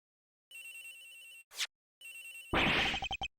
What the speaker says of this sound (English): Agent Hicks' phone, it's ringing.